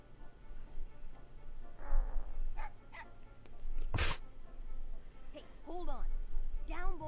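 A dog in the game Mega Man Legends yaps and whines in short bursts amid game sounds and a loud clack, with a string of quick high barks near the end.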